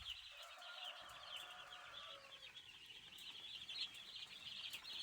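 Faint, high cheeping of month-old black chicks, scattered peeps over a quiet farm background with no talking.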